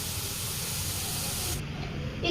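Boondi frying in hot oil for motichoor laddu, a steady close sizzling hiss that runs evenly throughout, with no voices over it.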